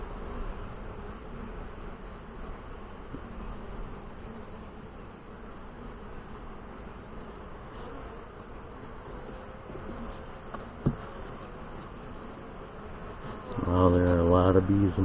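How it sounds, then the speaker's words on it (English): Saskatraz honey bees in an open hive give a steady, moderately faint buzz throughout, with a brief knock and a louder rise of activity near the end. "Well, there are a lot of bees in here."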